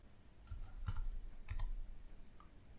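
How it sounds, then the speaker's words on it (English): Soft keyboard typing as a company ticker symbol is entered into a website quote box: a few light, scattered keystroke clicks in two small clusters, close and quiet, with no voices. "we just type in the company's ticker symbol in the quote box"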